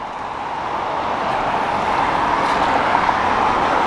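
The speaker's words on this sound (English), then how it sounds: "Lots of traffic, plenty of traffic." Steady road traffic passing on Main Street in Baker, Louisiana, a continuous mid-distance rumble and tire hiss that builds slightly and stays even, with no voices.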